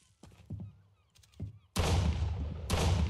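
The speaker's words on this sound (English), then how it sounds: "why am I shooting range with a shotgun?" A shotgun fires in the Arsenal video game, first a few muffled thumps, then two loud, sharp blasts with long, crackling tails.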